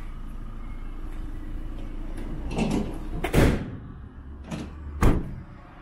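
The rear doors of a 2019 Vauxhall Movano van are worked open, giving a few sharp latch clunks and metallic knocks spaced over several seconds against a steady background hum, with no talking.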